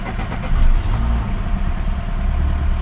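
A Peugeot 206 with a TU JP5 engine turns over once the ignition is switched on, a loud, steady mechanical engine drone held close throughout with no talk.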